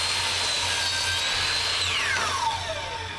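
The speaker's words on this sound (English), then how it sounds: "Better make quick work of cutting these boards." A power saw cuts through a stack of wooden boards in one pass, a steady loud whine with a pitch that drops near the end as the blade finishes the cut, over a low motor hum.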